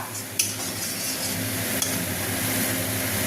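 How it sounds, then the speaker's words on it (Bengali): Spices and tomato are sautéed in a pan while being stirred for a vegetarian curry, giving a steady sizzle with a couple of sharp clacks from the spoon against the pan and a low kitchen hum. "এখন খুব ভালো করে কষিয়ে নেব।"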